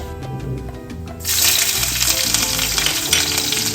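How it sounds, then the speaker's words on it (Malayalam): Mustard seeds spluttering in hot sesame oil for a Surinam cherry pickle, starting as a quieter crackle and then jumping to a loud, dense, continuous sizzle and popping heard up close. "അതിനകത്ത് കുറച്ച് കടുക് ഇടുക. കടുക് പൊട്ടി തുടങ്ങി."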